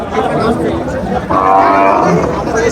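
Cattle low among a busy cattle market crowd near a border area, with a long drawn-out moo rising over the steady background chatter of people.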